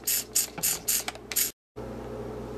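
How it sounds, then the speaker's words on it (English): Short bursts of sanitizer sprayed onto a small magnetic stir bar for a homemade stir plate, about five quick hissing pumps in a row, close and fairly loud, followed by a brief silence and a steady background hum. "we're going to sanitize our little stir bar here"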